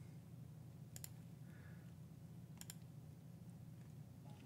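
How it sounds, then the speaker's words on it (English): Typing on a computer keyboard: faint, scattered key clicks with two sharper clacks standing out, set against a low, steady room hum. "Typing an email of ultimate importance"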